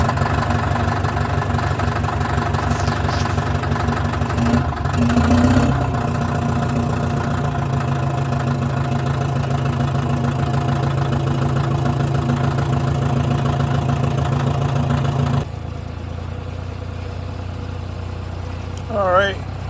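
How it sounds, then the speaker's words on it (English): A small Chinese tractor engine idles steadily after warming up, a loud continuous low rumble that drops abruptly quieter near the end, in a wooded setting. "my Chinese tractor, is all warmed up"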